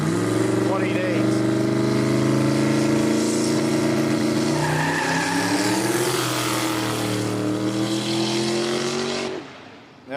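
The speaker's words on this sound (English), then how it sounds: "He wants to have a test hit here to see" A drag race car doing a test hit at the start line of a Quick Street drag racing event in Australia, a loud revving engine roar that climbs and wavers in pitch for about nine seconds before cutting off abruptly.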